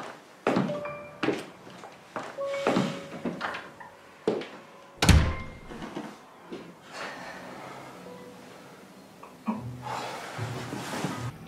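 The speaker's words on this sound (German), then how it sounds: "Mach die Tür zu." A door is shut in an indoor drama scene, one firm thunk standing out among scattered knocks, taps and handling sounds, with quieter rustling movement continuing afterward.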